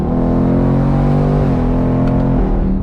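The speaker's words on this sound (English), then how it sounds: "rolling through the gears yourself has pretty quick upshifts and downshifts" A 2024 Ford Mustang GT convertible's 500-horsepower V8 revs loud and close, shifting through its 10-speed automatic with quick pitch drops between gears, and no one speaking.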